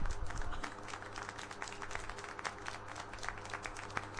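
Applause in the video game Syberia: The World Before: a steady patter of many hands clapping, faint and continuous over a low background hum.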